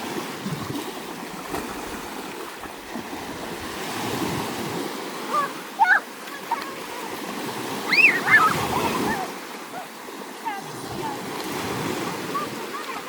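Sea waves washing onto a beach in a steady rushing surf with wind noise, swelling and easing in soft surges, with brief faint voices and splashes in between.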